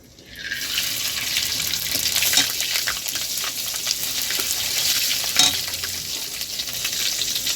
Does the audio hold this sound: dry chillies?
yes